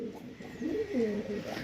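Pure red-vein (lal shira) pigeons coo in a low, rolling series, several throaty calls swelling close by with steady background hiss and no talk.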